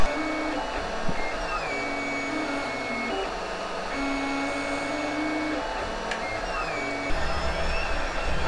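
3D printer making parts for an Ultron robot build, stepper motors whirring and humming in shifting tones with repeated pitch changes as the head moves, steady and close without talking.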